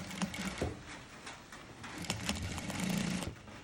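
A sewing machine stitches a half-inch seam joining two panels of a princess line saree blouse, a soft, steady mechanical whir with small clicks, fairly quiet and close, with no one talking.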